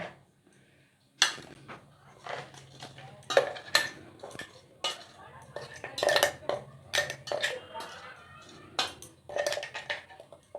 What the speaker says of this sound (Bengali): আমি বিস্কুটটা গুঁড়ো করে নিয়েছি, এবারে একটা বোলে ঢেলে নেব